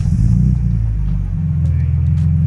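A BMW E34 520i engine cranks and catches with the doors open, settling into a steady low idle rumble that fills the whole short clip.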